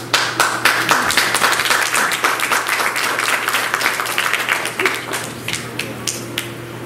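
A church audience claps in a large gathering, many hands producing a lively, dense patter that gradually thins and softens toward the end, with no talking over it.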